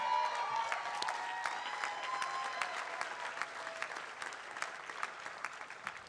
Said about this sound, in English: So can you give me a round of applause for Alex Galindo, Kevin Bohm,